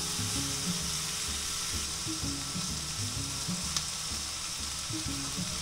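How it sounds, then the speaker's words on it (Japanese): Sliced pork belly stir-frying in a hot pan, a steady close sizzle with rhythmic scraping and stirring clatter throughout, no voices. "お肉を入れて炒めます"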